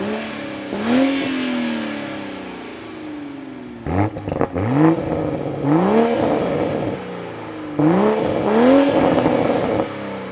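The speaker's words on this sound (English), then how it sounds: "we gotta go ahead and start the Supra up" The 3.0 engine of a 2024 Toyota Supra Premium with manual transmission starts and revs loudly up close, with several rising, falling throttle blips over about ten seconds.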